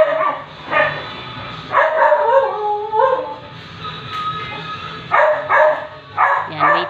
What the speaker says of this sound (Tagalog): Grabe ang iingay ng aso.